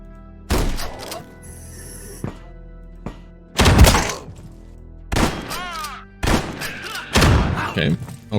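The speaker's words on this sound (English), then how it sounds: "We're gonna shotgun him." Shotgun blasts in the video game Quasimorph, several heavy booming shots with breaking and thudding impacts spaced a second or two apart, loud and punchy against a quiet game background.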